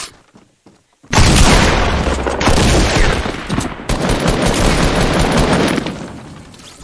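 Shotgun fire in a video game: after a quiet second, a loud, dense run of blasts and booming bursts fills the rest of the stretch, close and continuous with brief dips between shots.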